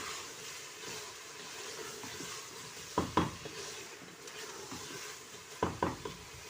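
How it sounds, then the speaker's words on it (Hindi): Carrots and potatoes frying with green chillies in a pan: a soft continuous sizzle with a few sharp scraping clinks of a spoon stirring against the pan, close up, with no talking. "अब हरी मिर्चों के साथ हम इसकी भुनाई कर लेंगे।"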